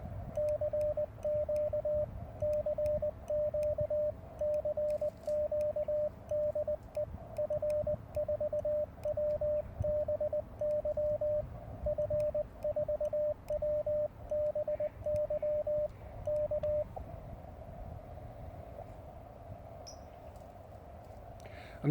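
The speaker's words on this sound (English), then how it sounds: "I'm just going to tune around and try to find someone calling, and I'll just reply to their calls." An amateur HF radio receiver on a short vertical antenna, set to CW, plays a steady keyed Morse tone in an even on-off rhythm over constant static hiss, then the tone stops and only band noise remains.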